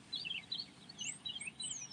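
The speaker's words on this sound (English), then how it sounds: "we watch these birds in the morning" Several birds chirp and tweet in the morning outdoors, with short, faint calls scattered across two seconds over a low background hum.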